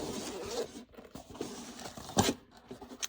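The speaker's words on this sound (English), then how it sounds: "zippered up here. Here's the zipper." The zipper on an ACMOUNT W160 jump starter case is pulled open in quick, scratchy bursts, close by, with a louder rasping stretch near the end.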